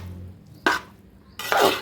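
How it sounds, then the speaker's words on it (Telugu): Pasta noodles stirred in a pan give two short, close scraping clatters separated by a brief quiet gap, with no voices. "చూడండి, ఇలా అయితే మిక్స్ చేసుకుందాం పాస్తా వేసుకున్న తర్వాత."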